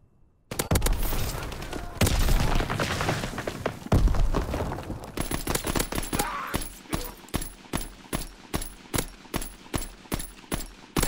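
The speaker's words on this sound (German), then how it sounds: "Stehe unter schwerem Beschuss!" Heavy gunfire in the World War II shooter game Call of Duty WW2, dense and continuous at first, then settling into a steady run of sharp, evenly spaced shots, loud and close.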